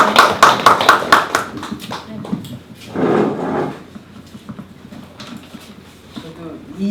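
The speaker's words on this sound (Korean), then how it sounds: "박수 한번 보내주시죠" Korean audience at a poetry exhibition opening talk giving a short round of applause, quick claps at the start that fade into a voice speaking and a brief murmur.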